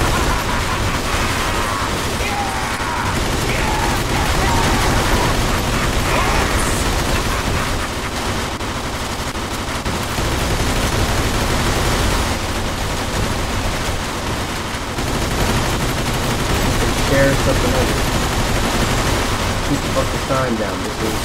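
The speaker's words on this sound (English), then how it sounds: "Shoot up the bar." Sustained gunfire shoots up a bar in the video game Mafia II, a dense continuous barrage of rapid shots and breaking debris lasting throughout, loud and close.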